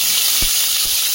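A steady, loud sizzle of hot oil in a wok, with a couple of soft low thumps underneath.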